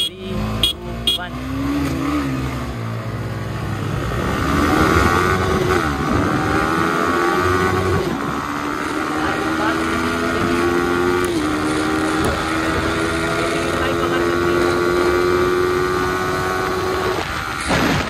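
Yamaha R15 V3 and V4 sport motorcycles accelerating hard side by side in a drag race, loud rising engine whine climbing through the gears for several seconds, steady and close throughout.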